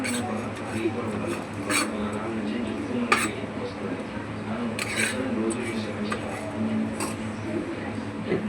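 Spices are pounded by hand in a stone mortar for a home-cooked chicken dish, with irregular hard knocks and clinks spaced a second or two apart over a steady background.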